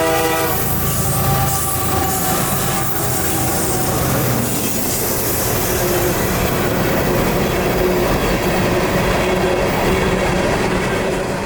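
A loud freight train hauling empty cars pulls away on the Port Manatee wet rock line, filling the air with a steady roar, sustained horn tones and squealing wheels throughout.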